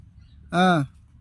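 A single loud rooster call, harmonic and wavering, lasting about a third of a second over a quiet background.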